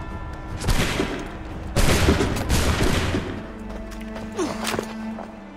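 A musket volley in Assassin's Creed III erupts as a dense crackling burst of many shots, followed by a second loud volley and scattered reports that trail into lower rumbling.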